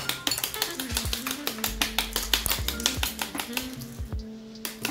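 A knife chips and scores a block of clear homemade ice, working in from the corners in a fast run of crisp, evenly spaced taps and cracks, close and steady.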